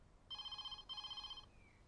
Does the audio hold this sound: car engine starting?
no